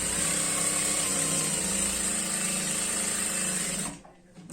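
A sewing machine drives a continuous fast whir along a girl's skirt side seam, loud and close, then stops abruptly near the end, leaving brief quiet.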